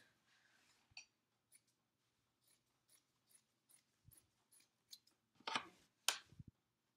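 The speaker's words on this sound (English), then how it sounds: "I like to trim the corner up a little so that it's easier to turn" Scissors snip through fabric while trimming the corner of a sewn pocket: a series of quiet, sparse cuts, then a few louder, sharper snips near the end, in an otherwise silent room.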